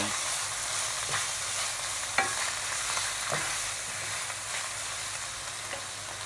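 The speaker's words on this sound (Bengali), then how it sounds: "এবার আমি এটা একটু মেরে চেড়ে মিশিয়ে নেব" Chicken stir-frying in a pan with a little salt and ground pepper gives a steady, close, loud sizzle, with occasional scraping stirs and a sharp clink partway through, and no talking.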